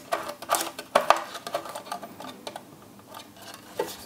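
Small plastic DIY button box button being fitted, with a nut screwed back onto its thread by hand: a run of light, close clicks and taps of varying loudness, with no voices.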